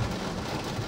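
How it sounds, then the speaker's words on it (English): Rain falls outside before dawn during a stormy night on a long road trip, a dense, even patter with low rumbling underneath, steady and unbroken across a brief moment. "It's now 5:30, listening to the rain."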